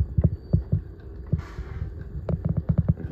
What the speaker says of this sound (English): when it's slow, it's gonna go really slow, one stitch at a time